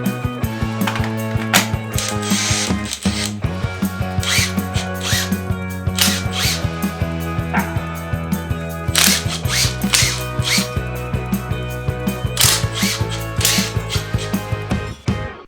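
An impact driver backs screws out of a wall to take down a shelf, its hammering ratchet buzzing in loud, repeated bursts with short gaps, close up and with no talk over it.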